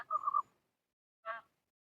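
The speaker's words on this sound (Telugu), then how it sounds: "నెమలి అరుపు" Two loud, nasal peacock calls, a longer wailing cry followed by a shorter one after a pause, heard clearly with no talking.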